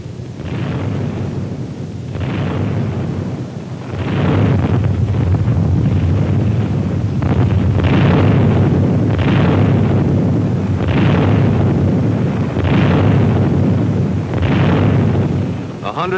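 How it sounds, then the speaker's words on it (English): WWII delayed-action bombs dropped from treetop level by B-25 Mitchell bombers, a string of loud heavy rumbling blasts roughly every one to two seconds over constant roaring noise, heard alone. "The Mitchells dropped delayed action bombs from treetop level into such concealed installations."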